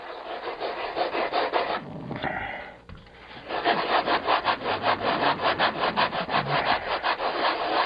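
Wooden wing sheeting on a model aircraft sanded by hand with 80 grit sandpaper, loud rhythmic rasping back-and-forth strokes close up, with a short pause before the steady strokes resume.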